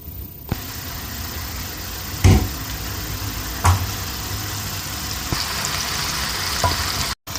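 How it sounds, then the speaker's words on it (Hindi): Chicken malai tikka sticks frying in about three spoons of oil over a very slow flame, giving a steady soft sizzle with a few sharp clicks and knocks from the pan, close and unaccompanied by talk. "3 चमचे हमने इसमें ऑयल डाला है। इस तरह से हम बहुत स्लो आंच पे हम इसको पकाएंगे।"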